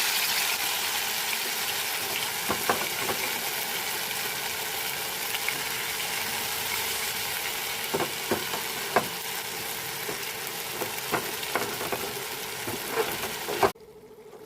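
Spiced golda prawns frying in mustard oil in a kadai, a steady broad sizzle with scattered pops and crackles across the whole stretch, stopping abruptly near the end; no voices.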